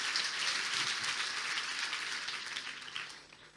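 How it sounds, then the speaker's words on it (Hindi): A church congregation claps loudly for Jesus during a Hindi sermon, a dense, steady wash of applause that tapers slightly toward the end. "आइए यीशु के लिए जोरदार ताली बजाएं।"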